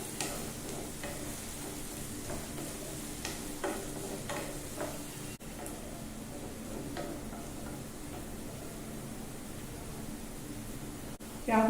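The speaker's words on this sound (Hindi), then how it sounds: "प्याज को लाइट फ्राई करेंगे।" Finely chopped onion and whole cumin seeds fry lightly in a pan with a soft, continuous sizzle. Occasional stirring clicks come through close by.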